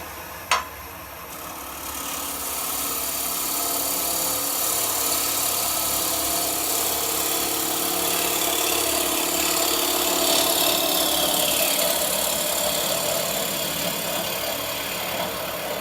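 A bottom feeder gouge takes a final clean cut across the bottom of a natural edge wooden bowl on a lathe, giving a continuous, even whirring scrape that holds steady for the whole stretch after a brief tap at the start.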